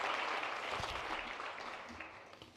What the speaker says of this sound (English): Let's give all of the awardees another round of applause